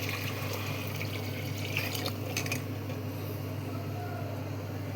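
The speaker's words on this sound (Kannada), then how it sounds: "ಆ ನೀರನ್ನ ಇದಕ್ಕೆ ಹಾಕ್ತಾಯಿದ್ದೀನಿ" Pre-heated water is poured into a glass, a steady, close splashing trickle that runs without a break and stays moderately loud.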